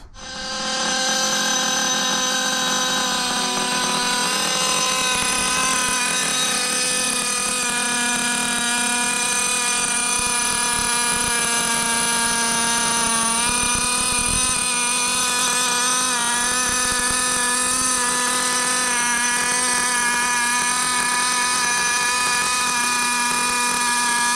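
Nitro engine of a Hobao GPX4 Pro RC buggy running continuously. Its high, buzzing whine holds steady with slight pitch wavers and stays loud and close throughout, with no talking.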